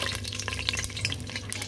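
Smoked bonga fish laid into a little hot oil in a pan, a soft crackling sizzle with scattered light pops, close but fairly quiet, no talking.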